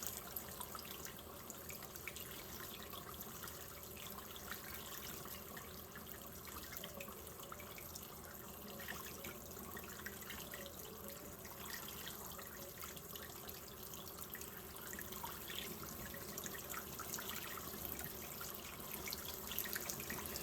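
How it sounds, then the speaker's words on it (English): A tap runs steadily, water splashing into a sink in a continuous, fairly quiet stream. "turn on some cool water"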